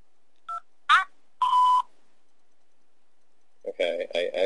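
Telephone keypad DTMF tones during a call: a few short separate beeps, then a longer steady tone, followed by a brief pause and then a voice speaking.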